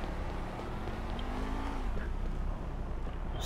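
NPC cars in GTA 5 accelerating hard, a continuous engine roar with rising revs and a brief tire squeal, loud and close with no talk.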